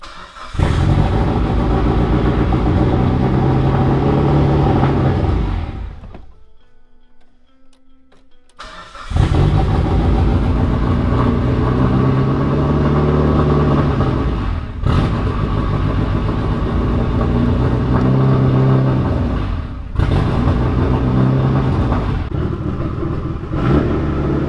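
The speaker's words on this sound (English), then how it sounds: "Let's open up the shop, fire up the car, and hope it runs better." A Mitsubishi Evo 8 in a shop cranks and fires, idles loudly, cuts out for a couple of seconds, then restarts and runs with a rough, uneven idle and brief blips, close and loud.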